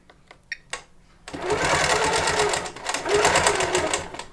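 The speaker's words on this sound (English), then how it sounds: "I'm just going to go ahead and sew it in." A Grace 21X Elite longarm quilting machine starts up after a few light clicks and sews steadily at close range, a loud, even mechanical whir with a brief dip in the middle.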